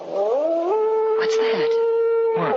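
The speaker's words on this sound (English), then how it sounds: "that was just a dog" A dog's long, wavering howl, staged as an outdoor sound effect in an old-time radio drama, rises and then holds a steady, drawn-out tone close and loud. Brief speech cuts in over it.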